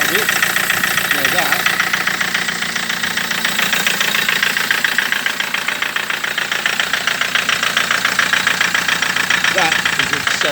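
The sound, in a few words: Land Rover Defender TDCi diesel engine rattling at idle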